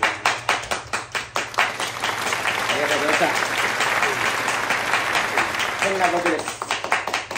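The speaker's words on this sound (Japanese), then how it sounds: "そんな拍手もらったことないのでやめてください。" Audience applause builds into a dense, steady wash of clapping, with sharp separate claps at the start and someone talking over it partway through.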